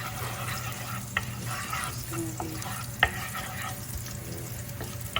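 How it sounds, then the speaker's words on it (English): Shallots sizzle and crackle steadily in a hot frying pan, with occasional clinks of a utensil stirring against the pan. "So you can hear the sizzling and everything."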